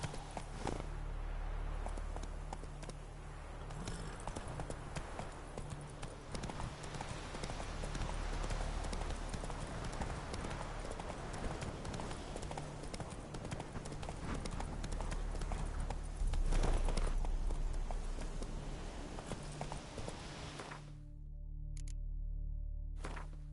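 Horse hooves clip-clopping in a steady walking rhythm in a video game, loud and continuous with background game ambience, ending in a short quieter stretch.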